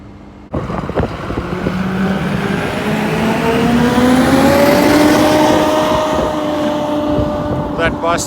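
A bus rumbling past on a dirt road near Breckenridge, Colorado, its engine rising in pitch and loudness as it passes close, then fading, with wind buffeting throughout.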